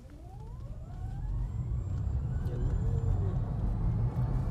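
A BYD Yuan Pro electric car accelerates: a thin motor whine climbs steadily in pitch over a constant low road rumble, heard from inside the cabin at a moderate level.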